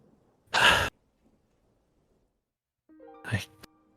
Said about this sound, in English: She takes some very long breaths. They're shaky.